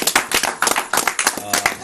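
Clapping at a Congolese music gathering, loud close claps in a quick uneven rhythm with voices talking over them throughout.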